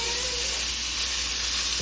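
Cabbage fries in bacon grease with a steady, bright sizzle and hiss, loud and continuous with no talking.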